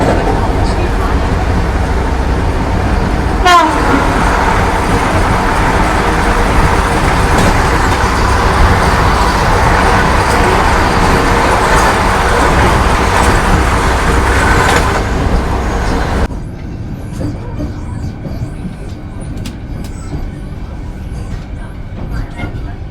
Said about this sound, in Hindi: तो ये बगल से क्रॉस होने वाली है केरला एक्सप्रेस।